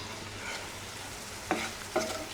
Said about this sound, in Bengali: আর এদিকে পটল ভাজি হচ্ছে